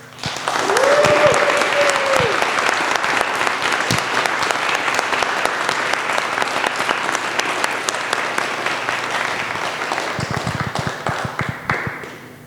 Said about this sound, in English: please give a big, big applause to Felipe Borges